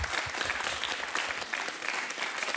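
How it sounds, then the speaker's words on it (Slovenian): Applause from a school audience at a cooking competition show, a dense steady clapping that carries straight through the short moment without any talk. "En aplavz, novomeška stran vašim someščanom."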